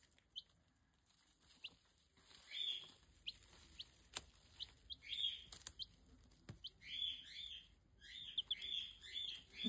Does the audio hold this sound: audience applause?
no